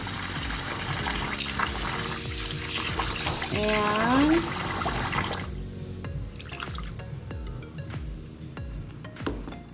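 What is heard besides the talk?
tap water filling a pot of rinsed rice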